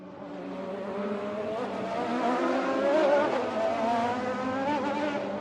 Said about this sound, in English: Filled with only intense drifting sounds